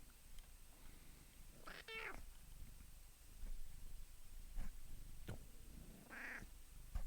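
Two clear cat meows, a couple of seconds apart, fairly close and moderately loud over a quiet room with a few soft clicks.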